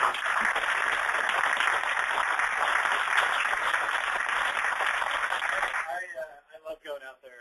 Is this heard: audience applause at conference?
yes